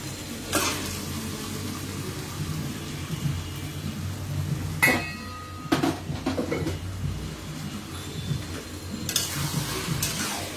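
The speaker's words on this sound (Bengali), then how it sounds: "এখন আমি এটাতে মেরিনেট করা যে মাংস মেরিনেট করে রেখেছিলাম সেই মেরিনেট করা মাংসটা আমি এখন এটাতে দিয়ে দিচ্ছি" Marinated beef going into a pan of fried spice masala for beef biryani, giving a steady close sizzle and frying hiss with a few sharper stirring scrapes and clatters.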